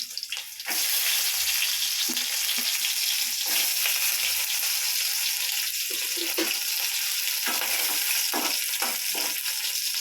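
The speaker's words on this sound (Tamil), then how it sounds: "நல்லா கொஞ்சம் வதங்கட்டும் இஞ்சி புளி கொஞ்சம் போட்டு வதக்கிடலாம்ப்பா" Ginger, garlic and tamarind sizzle loudly in hot oil for a pickle, a steady close frying hiss broken by occasional stirring scrapes and clinks, with no voices.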